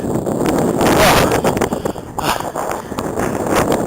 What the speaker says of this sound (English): I don't know if you can hear the mic over the wind.